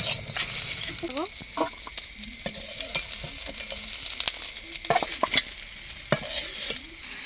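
Spice-coated fish pieces fry in oil over a village cooking fire, giving a crackling sizzle broken by sharp pops and stirring clatter.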